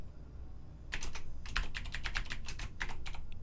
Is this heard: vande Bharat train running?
no